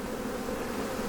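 Honey bees hum in a dense, steady drone during a hive inspection, close and constant with no pauses and no voices.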